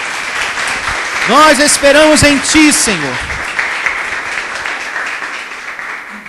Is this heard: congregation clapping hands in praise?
yes